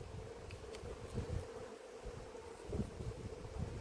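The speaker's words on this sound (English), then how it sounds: "It doesn't look like there's many bees in here" Honeybees at an open apiary hive give off a low, steady droning hum close to the microphone, with faint wind and rustling mixed in and no voices.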